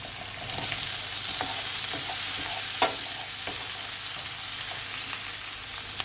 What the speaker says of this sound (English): Allow your tomato to saute, guys, for at least 15 to 10 seconds